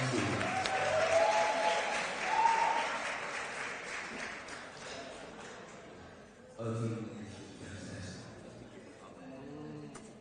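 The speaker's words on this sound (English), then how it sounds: "Give him a round of applause, please" An audience at an awards livestream event applauds, a moderate spread of clapping that gradually fades, followed by scattered voices and chatter in the room.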